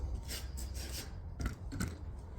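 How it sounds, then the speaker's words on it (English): Hand sanding of a san mai kitchen knife blade held in a fixture, heard as soft, close rasping strokes in a steady back-and-forth rhythm, fairly quiet, with no talking. "I got the blade in here, and what I'm going to do is I'm going to sand"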